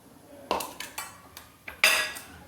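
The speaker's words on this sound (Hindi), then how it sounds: "तो तेल गरम हो गया है, इसमें डालेंगे हम सब्जी।" A pan of hot mustard oil on the stove for a mixed vegetable dish, with sharp clanks and scrapes of a utensil against the pan in irregular bursts, close and fairly quiet, with no voices.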